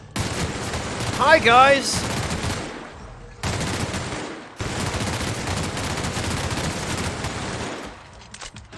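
Gunfire while shooting an enemy in The Outer Worlds, dense bursts of rapid shots in several stretches broken by short gaps, with a brief spoken greeting over the start.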